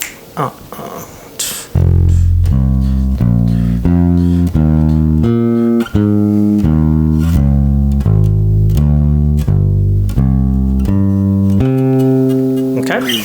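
An electric bass plays a walking bass line of sustained notes, alternating between root and fifth over a chord progression in an even rhythm, loud and close, with a brief voice beforehand.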